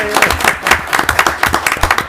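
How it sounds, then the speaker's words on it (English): Audience at a town commissioners meeting applauding the winners, a short burst of close clapping from a modest crowd with some voices mixed in. "One more round of applause for our winners tonight."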